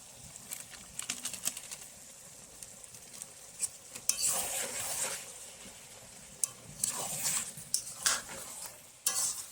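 Mutton being stir-fried with coriander-cumin and meat masala in a pan, with quiet frying under repeated scraping and clattering strokes of a spoon against metal, louder bursts of stirring coming in uneven spells.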